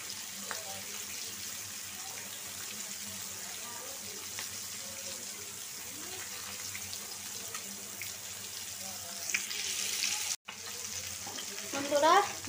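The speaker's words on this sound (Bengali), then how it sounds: "মাছগুলা দিয়ে দিচ্ছি, ভাজা হোক।" Pieces of katla fish frying in hot oil in a kadai, a continuous close sizzle with occasional spatters, a brief clatter near the end and faint background voices.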